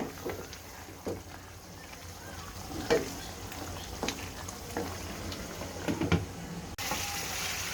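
Chicken korma frying in a pan, a soft continuous sizzle broken by periodic spoon scrapes and stirring knocks, close and moderately quiet, no speech.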